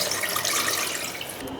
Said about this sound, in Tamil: இதுக்கப்புறம் வந்துங்க நம்ம அரிசிக்கு வந்து தண்ணி ஊற்றிக்கலாங்க